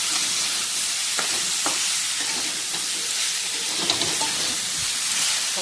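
Spices and food being sautéed in a pan late at night, with a loud continuous sizzle and hiss and intermittent clinks and scrapes of stirring, no talking.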